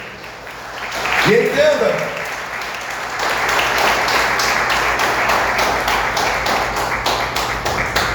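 A church congregation applauds during a Portuguese-language sermon, the clapping swelling and continuing steadily while a preacher's voice briefly speaks over it.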